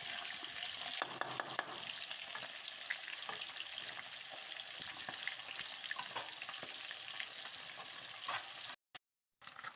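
Small puthi fish fry in oil in a pan while being stirred and turned, a steady dense sizzle broken by scraping and clinking of the utensil, briefly cutting out near the end.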